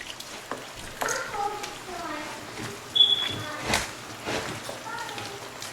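Pizza dough mixed by spatula in a bowl, giving soft wet slaps and scrapes at an irregular pace, with a brief sharp clink partway, heard close under light background noise.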